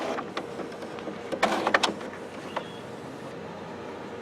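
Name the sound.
HP Officejet Pro printer carriage moving after lid opened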